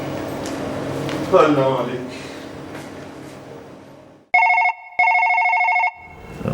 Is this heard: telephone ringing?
yes